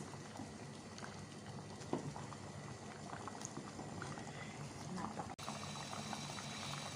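Mung beans bubble in a pot as they boil, a steady low simmering texture with soft popping that runs throughout, plus one brief knock near the end.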